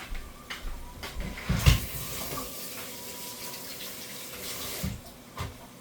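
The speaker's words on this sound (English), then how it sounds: "I'm just going to rinse this out really quick." A spatula is rinsed under a running kitchen tap, with a soft steady stream of water, a few clunks and knocks against the sink, and no talking.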